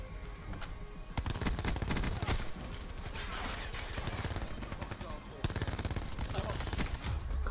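VKM rifle fire in Black Ops 4 crackles in dense, sustained automatic bursts, with other gunfire mixed in and talk over it.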